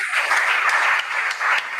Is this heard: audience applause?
yes